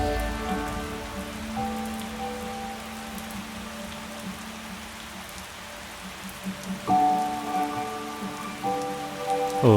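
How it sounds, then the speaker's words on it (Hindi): Steady rain patters on a surface, dense and continuous, with a faint tonal hum in the background and no voices. "और अब ये बारिश"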